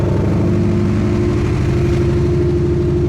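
A Ford Mustang Dark Horse engine runs steadily right after a software flash, a loud, close, continuous low rumble with no talk over it.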